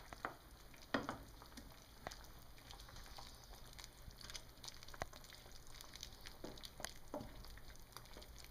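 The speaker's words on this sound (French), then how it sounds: "il faut laisser réduire pendant une dizaine de minutes encore à feu moyen" Coconut chicken in sauce simmering and reducing over medium heat, a faint steady sizzle and bubbling with occasional soft stirring clicks close by.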